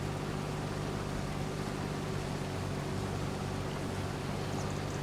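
A combine harvester engine in Farming Simulator 25 drones steadily at a low, even pitch, with no breaks or speech.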